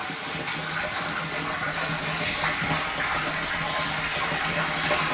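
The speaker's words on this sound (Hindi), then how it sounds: "फ्रेश पानी आ रहा है।" Fresh water pours steadily into a home water tank during cleaning, a continuous close gushing and splashing wash with no pauses, at an even loudness throughout.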